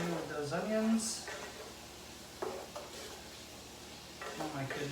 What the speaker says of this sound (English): Stir that around in with those onions.